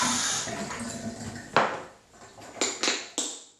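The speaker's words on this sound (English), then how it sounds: "Fill that up with warm water." Warm water runs and splashes into a glass, a continuous pouring wash that fades out, followed by several sharp clinks and knocks of glass being handled.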